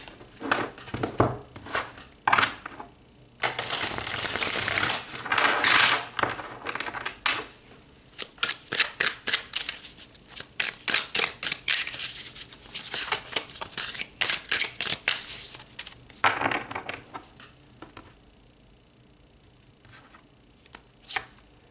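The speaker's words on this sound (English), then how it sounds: "All right, let's pull some more cards." A deck of tarot cards is shuffled and pulled in repeated riffling bursts and crisp flicks and slaps, close and fairly quiet, coming in irregular clusters with short gaps.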